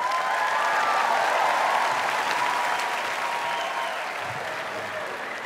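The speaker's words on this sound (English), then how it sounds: "Could you come up onto the stage and you get a big round of applause?" Audience applauding on a talent show stage, a dense, steady round of clapping that is loud at first and tapers slightly toward the end.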